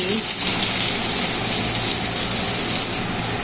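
Chopped onion tipped into hot white oil seasoned with whole cumin seeds and dried red chillies in a kadai, giving a loud, steady gushing sizzle that holds for several seconds with no talk over it.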